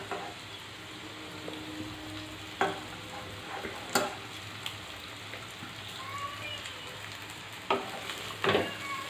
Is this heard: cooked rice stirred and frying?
yes